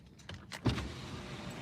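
Car power windows closing, a short electric motor whir with a thump near the middle, recorded close by inside a parked car with no talking.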